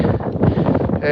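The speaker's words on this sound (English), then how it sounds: "but it's quite windy." Gusty wind on a cool outdoor day buffets the microphone with a steady low rumble and rustle, swelling and easing across the moment.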